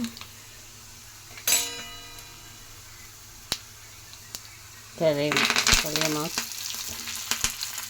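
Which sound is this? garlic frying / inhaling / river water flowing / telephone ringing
garlic frying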